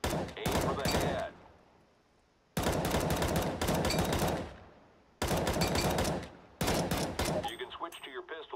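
Rifle fire in the game CS:GO during a shooting test: three loud, close bursts of rapid shots, each a second or so long and separated by short pauses.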